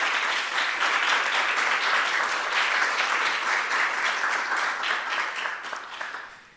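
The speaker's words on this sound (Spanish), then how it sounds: "damos un aplauso de bienvenida a Carlos." An audience at a talk applauds warmly to welcome a speaker, a dense wash of many hands clapping at steady strength before tapering off toward the end.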